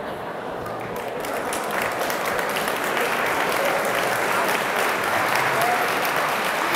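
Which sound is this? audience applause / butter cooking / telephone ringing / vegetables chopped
audience applause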